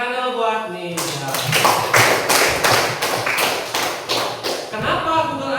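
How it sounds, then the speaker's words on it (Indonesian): Children clap their hands in a burst of roughly a dozen sharp, fairly close claps lasting a few seconds, with a voice speaking before and after. "Ayo tepuk tangan dulu buat nih."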